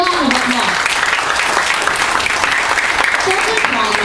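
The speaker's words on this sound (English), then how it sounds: "A round of applause." Audience at a school debate breaks into applause for a judge, dense clapping mixed with a murmur of voices and a few faint exclamations.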